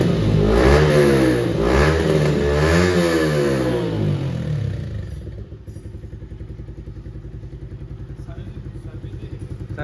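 A freshly serviced Yamaha R15 V4 motorcycle engine revs loudly up and down a few times nearby, then drops back to a steady, pulsing idle.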